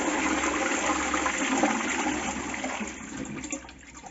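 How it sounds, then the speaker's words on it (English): A newly installed toilet flushing in a small apartment bathroom, a loud steady rush of water that holds for a few seconds and then begins to fade toward the end. "Will it flush?"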